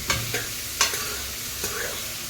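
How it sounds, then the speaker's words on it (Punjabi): Pumpkin pieces fry in a pan with a steady, close sizzle, interrupted by a few quick spatula scrapes and knocks against the metal. "ਪਹਿਲਾਂ ਆਪਾਂ ਕੱਲੇ ਕੱਦੂ ਨੂੰ ਅੱਧਾ ਫਰਾਈ ਕਰਾਂਗੇ"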